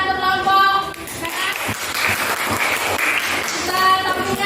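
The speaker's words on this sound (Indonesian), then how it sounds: "Oke, tepuk tangan untuk kelompok." Group applause breaks out in a classroom, a burst of clapping lasting a few seconds with voices talking over it before and after.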